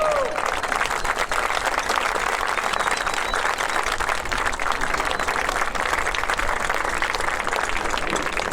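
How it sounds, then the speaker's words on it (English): Large crowd at an America 250 celebration applauding Vietnam veterans, dense sustained clapping that holds at a steady loud level throughout, with no voices over it. "Let's give them a round of applause."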